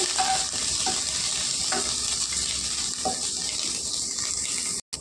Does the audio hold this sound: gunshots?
no